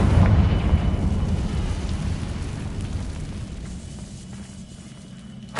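A Confringo blasting spell explosion in Hogwarts Legacy, a loud burst that decays into a long rumbling, crackling tail, ending with a sharp new hit.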